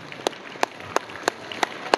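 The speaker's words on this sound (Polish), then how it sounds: "Ja bardzo serdecznie proszę o oklaski." A concert audience at a band show in Bartoszyce claps in a steady, evenly spaced rhythm, about six sharp unison claps over a faint crowd murmur.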